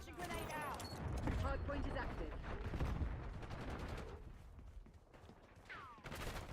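Rapid bursts of automatic gunfire from a Call of Duty match, dense and continuous with overlapping shots, under game sound and some voices.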